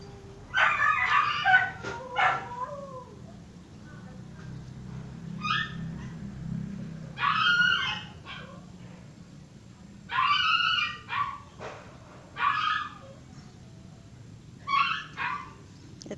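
Dogs on an outdoor walk let out repeated short barks and yelps in bursts, with quieter whimpers between them and a low rumble of background noise underneath.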